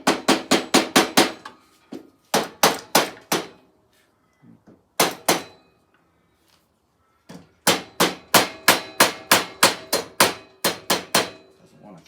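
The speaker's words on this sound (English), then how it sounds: "Little hammer." A small hammer strikes metal during a piston replacement: close, sharp taps in quick runs of four to eight, separated by short pauses.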